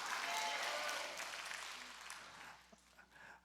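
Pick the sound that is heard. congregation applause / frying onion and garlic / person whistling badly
congregation applause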